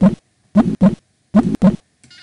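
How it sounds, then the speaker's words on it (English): Heartbeat sounds come in loud, close lub-dub pairs, with a short gap between the two beats of each pair and a longer pause before the next, with no other sound around them. "during one complete heartbeat."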